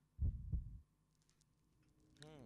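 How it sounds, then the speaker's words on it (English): Two slow, deep thumping heartbeats play during area loading in the Resident Evil Outbreak video game, followed by a quiet hum and a brief synthetic sweep at the end. "usually this process takes about like 5, 6, 7 heartbeats. Now it's just 3."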